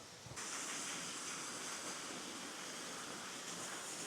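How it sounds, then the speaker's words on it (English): Water runs in a partly frozen stream along a trail at Old Man's Cave in Hocking Hills, giving a steady, soft, broadband rush with no voices. "I hear water running, so it's not completely frozen."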